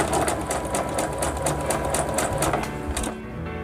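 Sewing machine fitted with a ruffler presser foot, gathering fabric into pleats in a fast, steady mechanical chatter of stitches that stops abruptly near the end.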